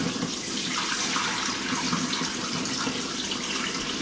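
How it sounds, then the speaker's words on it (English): Tap water runs steadily into a pot of drained, soaked beans with bay leaves, a continuous near splashing rush with no talk. "And we're going to put fresh water."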